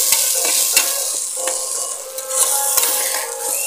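Eggs fry in a pan on an induction cooker, giving a loud, steady sizzle broken by sharp scrapes and clinks of a stirring utensil, close up and without speech.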